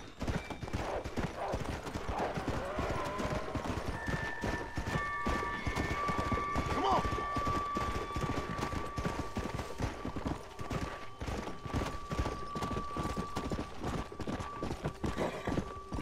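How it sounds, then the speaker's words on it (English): Horse hooves clip-clop steadily in the Red Dead Redemption: Undead Nightmare video game, a rapid, continuous galloping rhythm with game sounds and a faint tone layered underneath. "My horse is out of energy, so he's a bit temperamental at the moment."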